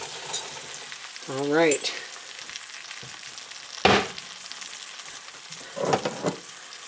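Food sizzles steadily as it browns in butter in a pan for a small roast meal, with a brief spoken remark and a few sharp utensil knocks and scrapes over the frying.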